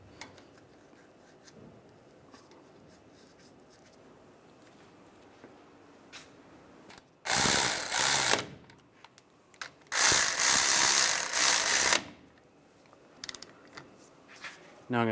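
Two bursts of ratcheting, about a second and two seconds long, as a ratchet tightens front brake caliper bolts on a 2007-2013 Chevrolet Silverado 1500, loud and close against a quiet workshop background.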